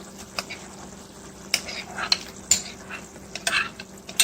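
A spoon stirs and folds cheese into tomato ricotta pasta in a pan over a very low stove, giving soft scraping and a few sharp utensil clinks against the pan under a faint sizzle.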